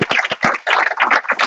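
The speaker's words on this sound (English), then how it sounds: "would you like to give her a round of applause?" Audience members at a school board meeting break into applause, a dense burst of clapping that comes close and fairly loud, briefly dipping mid-way before continuing through to the end.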